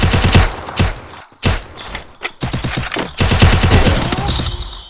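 Rapid bursts of automatic gunfire from a shooting video game, loud and close, firing in several volleys separated by short pauses with a final sustained stretch of shots.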